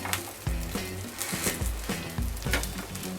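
Wheat dosai cooking in oil on a pan, giving a soft, steady sizzle with faint crackles close by and no voices.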